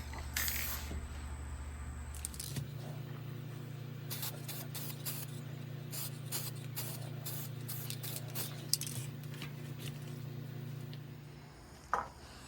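Spray paint hisses onto a car bumper in repeated short bursts over a steady low background hum, close by, with clicks and mechanical creaks between passes and no speech.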